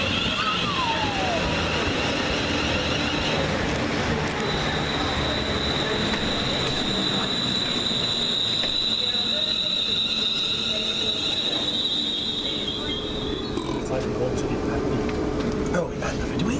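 A Class 350 electric multiple unit rolls into a local station near Grantham, its wheels and rails rumbling steadily with a sustained high squeal of brakes or wheels through the middle, while people chat nearby.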